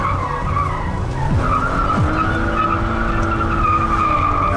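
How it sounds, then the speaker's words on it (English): A car accelerating hard and skidding off a driving course, with a sustained engine drone and long tire squeal running loud and close throughout. "Craig guns the gas so hard that he can't even stay on the course"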